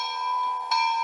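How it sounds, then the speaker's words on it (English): Steady electronic bell ringing from a sound decoder installed in a D&RGW C19 model steam locomotive, a sustained metallic tone with one brighter strike near the end, close and alone. "There's the bell sound."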